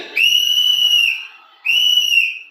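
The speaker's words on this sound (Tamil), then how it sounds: "ஒவ்வொரு வீட்லயும் விசில் சத்தம் கேட்கும் தானே?" At a TVK Vijay political rally, two long, shrill whistle blasts sound one after the other, each held for about a second and clear against near silence.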